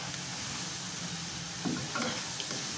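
Potato french fries deep-fry in hot oil, giving a steady, even sizzle with soft bubbling pops and a couple of slightly louder crackles, close by and without any talk.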